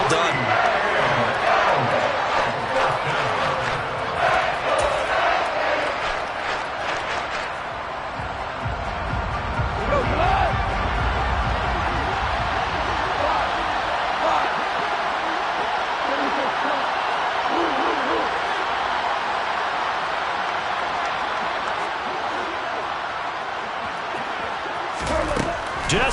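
A stadium crowd at an American football game between the Lions and their opponent roars and cheers, a broad sustained swell of noise that rises and falls beneath a play-by-play announcer talking throughout.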